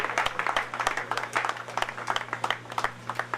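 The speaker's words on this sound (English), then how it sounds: "Put your hands together for her" An audience claps for a graduate receiving a distinction award at a ceremony in Calabar, a lively, uneven burst of close hand claps over a steady low electrical hum.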